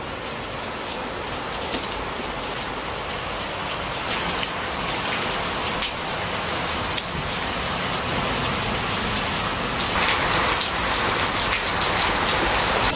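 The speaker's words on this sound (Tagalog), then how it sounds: "Lakas ng ulan." Heavy rain pours down in a dense, steady hiss of drops striking surfaces, continuous and close throughout, with no talking.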